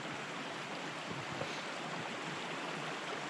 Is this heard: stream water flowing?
yes